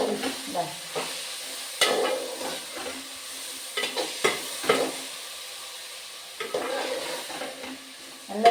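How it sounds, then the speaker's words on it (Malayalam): Chopped onion and green chili frying in a pan for a red spinach thoran, with a spoon scraping in irregular strokes over a low, steady sizzle, close by. "ഉള്ളി പച്ചമുളക് ഇട്ടു. എന്നിട്ട് ഇളക്കുക വേണ്ടേ."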